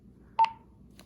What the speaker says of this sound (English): To turn the radio on or off, you just push mode and hold it down.